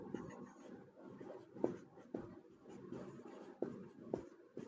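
Chalk or marker writing on a board while a math equation is solved in a class 10 lesson, giving repeated short scratchy strokes with sharper taps, fairly close and moderately quiet, with no talking.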